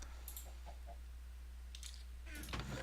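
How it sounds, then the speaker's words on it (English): Short bursts of chicken clucking in the video game Solitary Craft 7 over a steady low hum, a few scattered calls, then a louder flurry near the end. "they just be chickens, but wow, it's like all the time and they're so loud"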